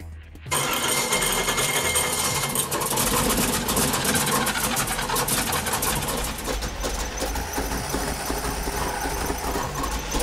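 A bracket race engine built from repurposed parts fires up and runs rich, dumping excess fuel, roaring loud and rough after a quick start with a harsh, sustained buzzing drone and no talking over it.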